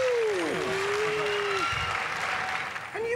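Studio audience applauding loudly after a celebrity special robot combat bout, a dense steady clapping wash lasting throughout, overlaid by a presenter's voice speaking.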